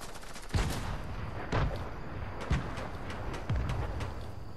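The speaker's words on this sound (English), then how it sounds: "Are they still shooting at me?" Gunfire in the Fortnite video game on PS4/PS5, with four short, fairly faint bursts of shots spaced about a second apart over a constant background din.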